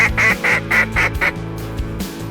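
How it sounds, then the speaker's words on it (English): A drake duck gives a run of six loud, evenly spaced quacks close by during a duck hunt, followed by quieter background noise. "We heard him like a typical drake quack"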